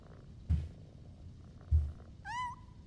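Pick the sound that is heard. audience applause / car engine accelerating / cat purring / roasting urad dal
cat purring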